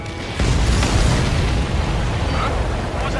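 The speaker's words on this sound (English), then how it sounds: "What was that explosion?" A loud, sustained explosion roars in the Ace Combat 7 video game, a broad rumbling blast that holds steady for a few seconds without dying away.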